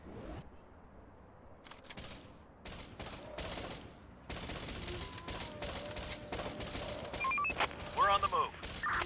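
Bursts of gunfire from the video game Infection Free Zone crackle at a moderate distance. Short volleys and rapid machine-gun strings come in irregular clusters over low game ambience and effects.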